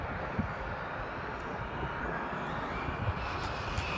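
A Traxxas Slash RC car's electric motor runs at full throttle on a 4S battery, producing a constant loud whine and rushing roar that holds steady throughout.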